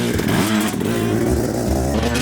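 Dirt bike engine revving loudly and close on a rock, sand and clay single-track trail with steep hill climbs, a steady throaty roar rising and falling in pitch.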